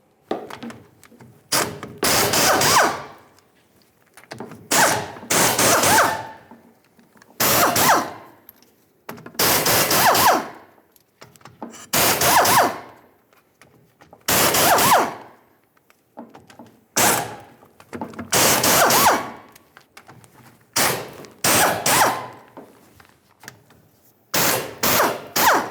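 Repeated bursts from a power tool backing out the differential cover bolts on a 1998-2011 Ford Ranger rear axle, about a dozen loud whirring runs with short pauses between them.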